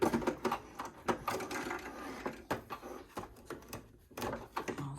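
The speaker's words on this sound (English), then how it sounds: "I'm going to do a few more back stitches before I hit the end of the fabric." A Brother LX 2375 sewing machine runs in reverse for back stitches on fabric, giving a close, rapid mechanical chatter with rhythmic pulses and brief pauses.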